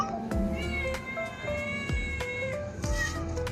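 Several cats meow repeatedly outdoors, with overlapping, fairly close calls and a few drawn-out caterwauling tones as stray cats gather around a cat taken outside.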